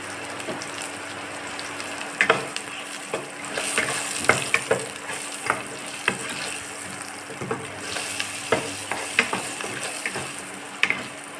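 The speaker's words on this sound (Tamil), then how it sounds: "ரெண்டு நிமிஷம் வதக்கிட்டு இதில் கொஞ்சம் மஞ்சள் பொடி சேர்த்துக்கலாம்" Drumstick leaves sauté in a pan with a continuous sizzle broken by repeated sharp stirring scrapes and clatters, up close and without speech.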